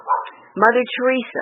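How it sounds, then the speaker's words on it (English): A dog barks from behind a wall, a few short barks breaking through while a person keeps talking over them. "Apologize for the dog behind me."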